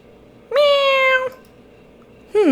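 A cat gives a loud, close, drawn-out meow, then starts a second meow after a short pause.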